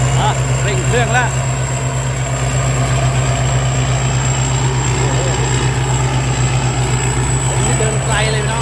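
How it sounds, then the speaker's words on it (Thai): A truck engine revs hard, a loud steady low drone with a constant high whine above it, continuing under people talking nearby. "เร่งเครื่องแล้ว"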